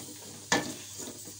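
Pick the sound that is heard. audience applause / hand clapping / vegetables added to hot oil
vegetables added to hot oil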